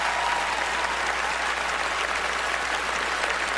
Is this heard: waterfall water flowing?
no